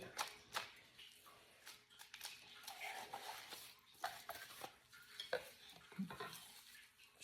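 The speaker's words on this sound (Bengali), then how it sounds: "পেঁয়াজটা আমি মিক্স করে নিলাম" Raw onion being mixed by hand with mustard oil for a Bangladeshi bharta, heard as soft, close, irregular squishing and slapping with occasional light taps against a bowl, fairly quiet and without talk.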